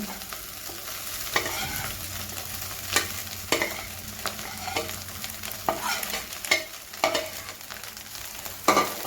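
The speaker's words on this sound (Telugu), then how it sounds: "ఇప్పుడు రైస్ని ఇందులో వేసుకోవాలి" Cooked rice being stirred and tossed into a sizzling masala in a pan for egg fried rice, a steady close frying hiss with repeated scraping spatula strokes and clatters, no talking.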